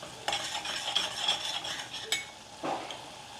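A spoon stirs bottle gourd shaak in a pan over the gas, making a few sharp scrapes and clinks against the metal over a faint, soft sizzle.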